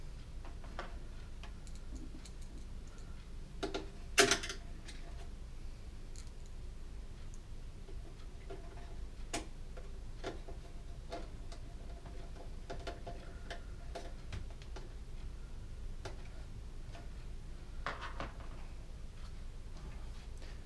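Screws being backed out of a Dell Inspiron 3656 desktop during a CPU fan repair make sparse, close clicks and ticks over a low steady hum, with one louder clatter early on and no talking.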